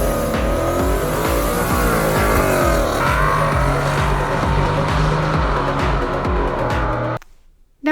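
A 2015 Ford Mustang with a 2.3-liter turbo EcoBoost engine drives with a loud, steady engine drone that holds its layered pitch for about seven seconds, then cuts off abruptly into near silence.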